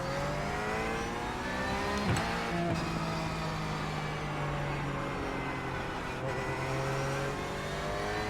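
Race car engine in the iRacing video game, a steady loud drone with rising and falling pitch as it revs through gears, heard alone without talk.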